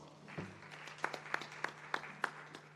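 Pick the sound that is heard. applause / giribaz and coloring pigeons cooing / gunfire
applause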